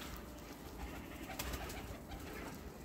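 Pigeons perched on a rooftop coo softly and repeatedly, the low, fairly faint calls sitting over a quiet outdoor background, with no voices.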